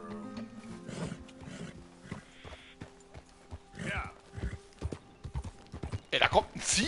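Rhythmic clip-clop of horse hooves in Red Dead Redemption 2 over the game soundscape, with a voice talking intermittently on top.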